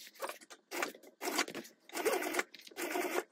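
Sewing machine stitching down the seam of a vinyl tote bag, a run of close, steady mechanical bursts in several short passes with brief pauses between them.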